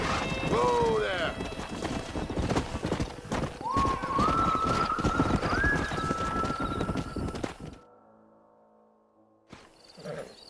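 Horse hooves clip-clop steadily in the Western video game Red Dead Redemption, a quick rhythmic trot with neighs and whinnies over it and ambient birds, fading out near the end.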